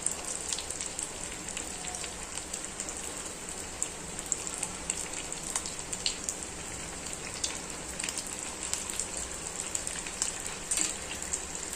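A vegetable snack deep-frying in hot oil over a medium gas flame, giving a steady, dense crackling sizzle that holds evenly throughout, close and unbroken, with no talking.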